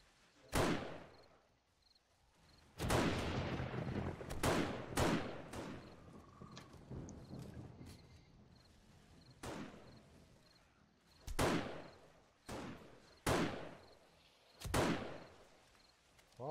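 Gunfire from a weapon in a zombie survival game during a Blood Moon night, repeated sharp loud blasts with echoing tails, some in quick pairs, spaced irregularly across the stretch.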